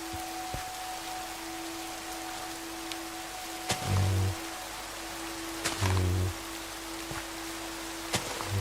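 Soft, steady rain falls in the video game Minecraft, an even wash of patter with a faint tone beneath, broken by a few sharp clicks and low thumps.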